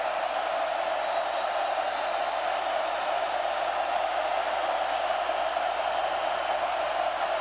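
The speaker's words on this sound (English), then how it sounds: "Crowd alive." A football stadium crowd at a Tennessee versus California college game gives off a dense, steady roar of many voices, constant and loud without clear peaks.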